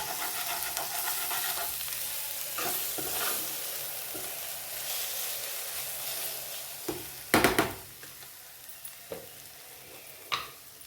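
Prawns fry in a pan over a medium flame, giving a continuous crackling sizzle broken by several sharp, louder spatula scrapes and clatters toward the end.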